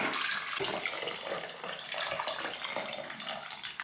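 Plenty of water pours steadily from a tap into a pan holding diced vegetables and potatoes, a close, continuous rushing hiss with no pauses.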